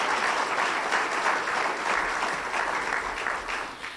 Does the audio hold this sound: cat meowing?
no